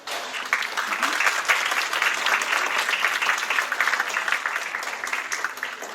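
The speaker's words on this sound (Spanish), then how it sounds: "a quien desde ya les pido un fuerte aplauso" An audience at an architecture lecture breaks into steady applause, a dense sustained clapping from a sizable crowd that holds for several seconds and thins slightly near the end.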